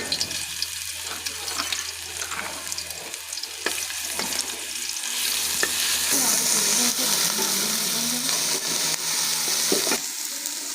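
Garlic ginger paste fries in hot ghee in a pan, giving a steady crackling sizzle with occasional stirring scrapes and clicks, close and continuous, growing slightly louder toward the end.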